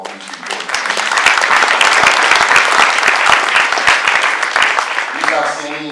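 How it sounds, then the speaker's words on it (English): A room full of people at an annual meeting gives a dense, sustained round of loud clapping that swells quickly, holds steady for several seconds, then tapers off at the end. "Please join me in a round of applause for all these people."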